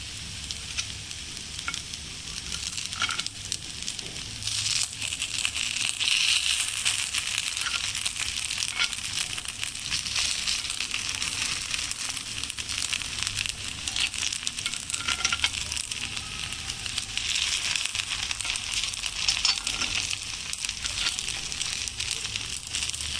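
Appe batter frying in an appe pan, a steady close sizzle and crackle of oil that runs alone and unbroken throughout.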